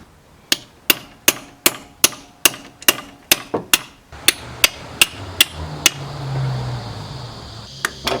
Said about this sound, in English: When in doubt, get a bigger hammer.